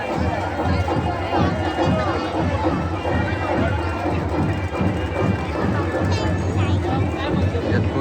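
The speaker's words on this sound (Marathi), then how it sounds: "जबरदस्त गर्दी असतात त्यामध्ये" A dense crowd at a village fair (jatra) in Ambrad, where about 40,000 devotees come to eat, fills the scene with continuous chatter and babble, loud and close all around.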